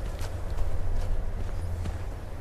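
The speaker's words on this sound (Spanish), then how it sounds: "Señorita, señorita, un caballo, un caballo ahí." A horse walks in Skyrim on PS4, its hooves giving a soft, steady clip-clop over a low ambient rumble.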